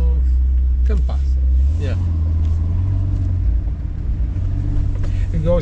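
A Ferrari Performante drives through Italian city streets, its engine a steady close low rumble heard from inside the cabin that swells and rises in pitch partway through as the car pulls ahead.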